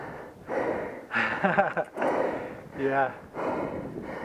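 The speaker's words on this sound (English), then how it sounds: "I got lots of heavy breathing simulation" Heavy, laboured breathing from a cyclist slowly climbing on a Ridgeback bicycle, with repeated close, breathy exhalations between brief bits of speech.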